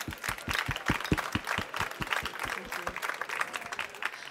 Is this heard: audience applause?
yes